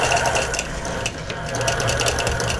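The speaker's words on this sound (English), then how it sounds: "So I'm just doing 3 lines of quilting in each triangle." Sewing machine stitching quilting lines on a patriotic quilt, three lines per triangle; a steady, continuous motor whir with rapid needle chatter runs close and loud for the whole stretch, with no talk.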